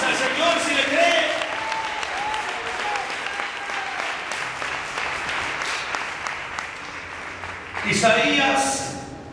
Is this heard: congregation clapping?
yes